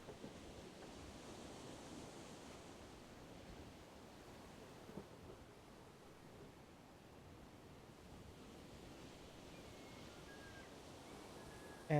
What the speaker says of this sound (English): just looking how the waves just move the ship up and down.